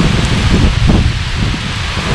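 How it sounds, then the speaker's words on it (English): Strong wind roars continuously outdoors at a grilling setup where steak and lobster tails are cooking, a loud, broad rushing buffet filling the whole stretch with no talk. "The wind is kicking."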